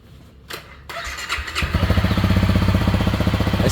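A bone-stock motorcycle engine cranks with a few clicks and a whirring starter, then catches and settles into a steady, throbbing idle, nearby and fairly loud with no speech.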